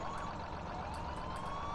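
Ambulance siren in an emergency services game, a steady wailing tone rising slowly, held at moderate level throughout with faint overlapping vehicle noise.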